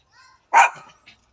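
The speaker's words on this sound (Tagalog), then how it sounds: "Mga aso, kayo maingay." Dogs on a rural farm give a single sharp bark, with faint yips just before it and a brief soft yelp after, set against an otherwise quiet background.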